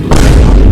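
A car door on a 900 hp Dodge Challenger Hellcat slams shut in one sudden, very loud close-up thud that booms and overloads briefly.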